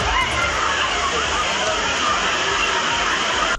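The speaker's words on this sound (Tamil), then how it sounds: "உடுமலை அருகே திருமூர்த்திமலை பஞ்சலிங்க அருவியில் சுற்றுலா பயணிகள் குளித்து மகிழ்ந்தனர்." Tourists bathe at the Panchalinga waterfall in the Thirumoorthy hills near Udumalai, a steady loud rush of falling and splashing water that fills the scene, with the faint babble of crowd voices mixed underneath.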